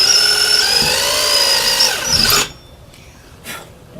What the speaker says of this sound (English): I'm going to drill a little hole.